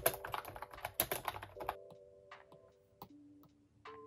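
Typing on a Rymek mechanical keyboard, a dense run of close, crisp key clicks for about a second and a half, then sparser single keystrokes over a faint steady background tone.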